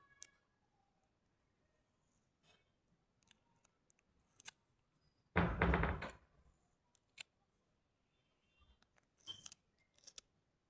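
Tape rips off a roll for wrapping a cricket bat in one loud tearing burst lasting about a second, set among quiet scattered clicks and handling taps.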